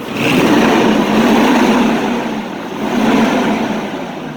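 A truck engine is revved in repeated swells, with a loud throaty roar rising and easing twice up close, the engine running despite an intermittent hard-starting fault.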